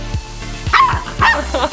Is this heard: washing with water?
no